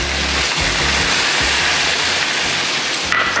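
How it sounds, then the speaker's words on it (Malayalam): Water pours into a pan of chicken roast being cooked, a loud, continuous rushing splash close by that runs for a few seconds and then cuts off abruptly near the end. "ഞാൻ ഇതിലും വെള്ളം ഒഴിക്കാം കേട്ടോ"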